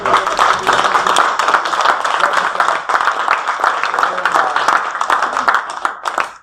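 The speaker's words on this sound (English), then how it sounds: "Big round of applause." Loud, dense audience applause after a debate, steady clapping filling the whole stretch with a slight taper at the end.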